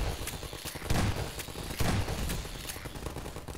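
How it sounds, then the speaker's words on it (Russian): Rapid gunfire in Half-Life 2: Episode Two in repeated bursts with heavy booming impacts, loud and close, continuous shooting throughout with no pause for reloading. "Три выстрела, перезарядка."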